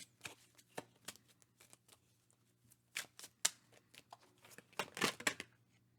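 A Kipper card deck being shuffled by hand, with quiet crisp riffles and soft card taps in irregular bursts, close and clear in a quiet room.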